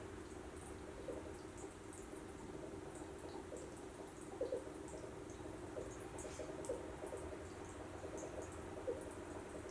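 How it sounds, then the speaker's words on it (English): Soft, irregular bubbling and gurgling from a beer fermenter's airlock, with small pops rising now and then over a steady watery background. "Hear the bubbling of the airlock."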